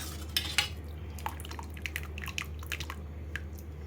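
Boiled moong dal being mashed in a metal vessel makes soft, wet clicks and small clinks of a utensil against the pot. The irregular taps come close and quiet with no talk, starting with a couple of sharper hits.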